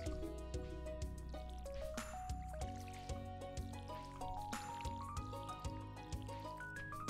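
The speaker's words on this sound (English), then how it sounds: "Gotta water all my plants." Plants are watered in the farming game Stardew Valley: quick, repeated splashy drips from the watering can sound over a continuous, bright game music melody.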